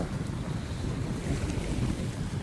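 Strong wind and ocean waves at sea on an Atlantic mackerel fishing boat, a steady loud roar with buffeting wind against the microphone and no talk.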